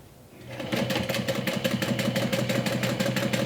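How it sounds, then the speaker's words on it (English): Sewing machine stitching a quarter-inch seam around the U-shaped edge of a swim tote, a steady close whirring run with rapid rhythmic needle pulses after a brief start. "So I'm going to sew this with 1/4 inch seam allowance just around the U."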